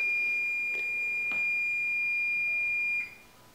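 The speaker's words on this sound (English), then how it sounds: "That was the timer for my dough." A kitchen timer set for croissant dough gives a steady, continuous high-pitched electronic beep, loud and close, which holds for about three seconds and then cuts off, leaving a quiet room.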